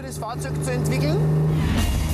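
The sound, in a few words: Fiat Dino Spider vintage car driving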